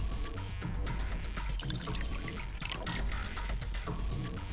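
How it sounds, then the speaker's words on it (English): Saline solution pours steadily into a beaker in the video game Virtue's Last Reward, a continuous bright splashing trickle holding an even level throughout the clip. "I'll just pour the saline solution in here."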